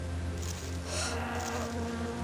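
A steady, close insect buzz from a bee in the Jersey Devil video game, droning continuously with slight swells.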